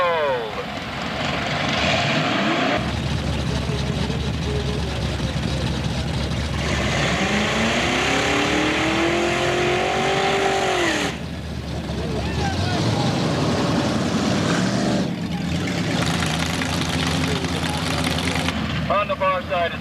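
Jet-powered drag cars, including a yellow Camaro, roaring down a 1998 Gambler's Classic drag strip, a loud sustained engine howl that rises and sweeps in pitch, cuts out briefly and returns, with an announcer talking over it.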